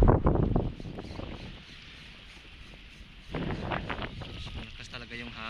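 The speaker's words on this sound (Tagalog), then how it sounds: "Medyo mahirapan tayong mag-cast ngayon kasi ang lakas ng hangin." Strong wind buffets the microphone on a rocky shoreline during ultralight shore casting, gusting loudly at the start, easing to a lower rush, then rising again in rough, blustery bursts.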